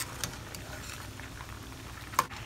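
A seafood boil pot bubbles at a rolling boil, with a low continuous burble and scattered pops and patters, one sharper splash near the end, quiet and without speech.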